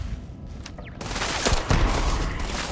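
Gunshots in the video game Starfield, a burst of rapid, loud close shots that erupts suddenly after a quieter moment and continues as a dense rattle with a couple of sharper cracks.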